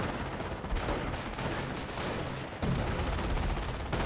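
Artillery firing in Company of Heroes comes as a constant barrage of loud, overlapping blasts and crackling gunfire, with a heavy thump near the middle and no pause.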